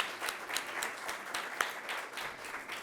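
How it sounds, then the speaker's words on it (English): A conference audience breaks into a round of applause, a steady wash of many hands clapping at moderate distance, fairly soft and even throughout with no voices on top. "can we give a big round of applause to Amisha and Ben, the whole GOWA team"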